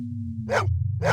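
A dog barks twice in the Blade Runner video game, two short, loud barks about half a second apart over a steady low electronic hum.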